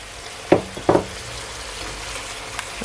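Chicken stew sizzles steadily in a pot as pineapple juice and seasoning are stirred in, with two sharp spoon scrapes or knocks early on over a constant low frying hiss.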